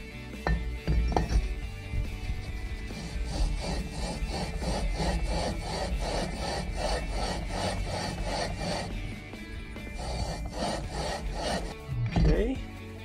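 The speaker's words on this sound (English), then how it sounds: "So I'm going to add some valve grinding compound on here. And we will lap this flywheel in." A small-engine flywheel on a Predator 212 is lapped by hand with valve grinding compound, giving a steady rhythmic gritty rasp of back-and-forth rubbing strokes, close and continuous with a few metallic clinks and brief pauses.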